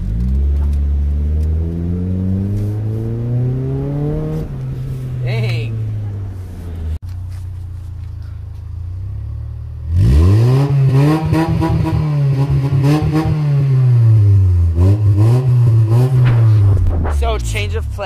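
Car driving on a road at night, engine revving up and down through gear changes with a steady hum of tires, close inside the cabin, with a short quieter stretch midway.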